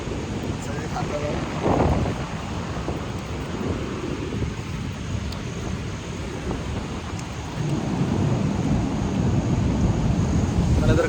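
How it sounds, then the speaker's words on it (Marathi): Heavy rain pours and strong wind buffets the microphone at a beach, a loud, dense, steady roar throughout, with a deeper gust-like swell near the start and again toward the end. "मित्रांनो जोरात पाऊस आलाय"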